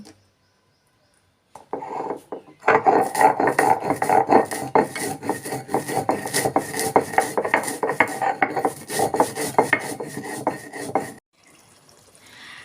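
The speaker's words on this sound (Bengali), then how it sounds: "আমি ভাজা মশলাটা শিলে বেটে নেব" Roasted spice mix being ground by hand on a shil grinding stone, a steady rasping, rubbing stone-on-stone scrape in repeated strokes, close and fairly loud, running about eight seconds with no talk.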